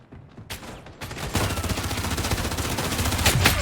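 Rapid P90 gunfire in the shooter game Battle Teams 2, a couple of early shots and then a dense, continuous automatic burst that grows louder and runs to the end, with no talking over it.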